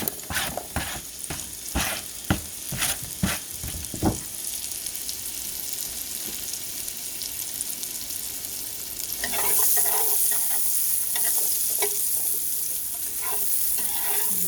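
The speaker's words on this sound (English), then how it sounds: "Now to our butter, I'm going to add our onions" Chopped onions hit melted butter in a pan for beef stroganoff. Several utensil clatters and scrapes come first, then a steady, close sizzle swells louder near the end, with no one speaking.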